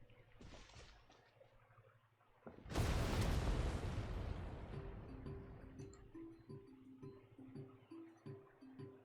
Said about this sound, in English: What's happening at the stadium? Did something explode?